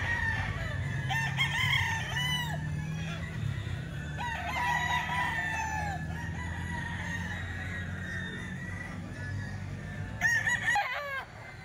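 Several gamecocks crow repeatedly nearby, overlapping calls rising over a murmuring crowd background.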